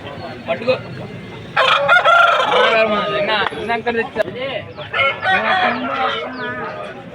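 A rooster crows loudly at a busy rooster market in Vijayawada, with clucking fowl and someone talking close by throughout.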